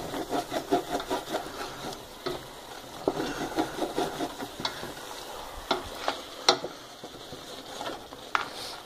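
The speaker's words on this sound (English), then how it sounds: "So I'm turning my temperature up and just stir that a little bit." A spoon stirs curry goat in a hot pot, giving soft scraping strokes and quiet clinks in an irregular rhythm over a faint sizzle, close but low in level.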